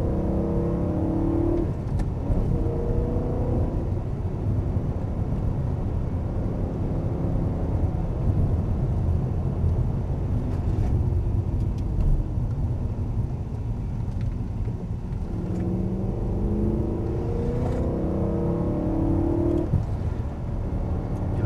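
A BMW M3 engine on a racing circuit roars close and loud through sustained acceleration, revs climbing in rising sweeps through the gears, with a steady rumble throughout and a fresh surge late on.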